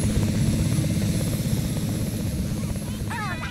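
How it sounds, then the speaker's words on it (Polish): Helicopter in The Sims 2 on Twikki Island, a steady rotor-and-engine drone holding loud throughout, with a brief bright chirping game sound near the end. "co ci tak przeszkadza ten helikopter?"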